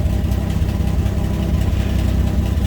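A 1965 Chevrolet Corvair Monza Sport Coupe with its 2.7-liter engine and automatic transmission idles just after starting, a steady low rumble holding an even level throughout with no voices.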